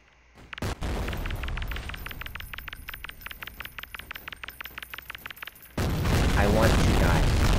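A rapid string of game grenade-gun blasts fires in Garry's Mod, dozens of sharp explosive pops in a steady, machine-like rhythm, then a louder, denser roar of detonations takes over at the end.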